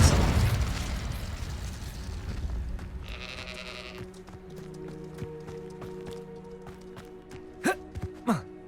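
Fire spells Incendio and Confringo from a Harry Potter video game burst in a loud noisy blast at the start, followed by fainter magical hums and a couple of sharp whooshing hits near the end.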